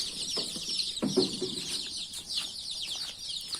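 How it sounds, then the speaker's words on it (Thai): High, busy cheeping from many baby chicks fills the background steadily, with a few soft clucks and light rustling nearby as they are moved into a brooder pen; no talking. "เอาลูกไก่ไข่มาลงเล้า อนุบาล ลงคอกอนุบาลนะครับ"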